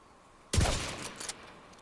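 A pistol shot from The Division 2 cracks out sharply, followed by a short burst of further reports and rattling echo that fade within a second or so.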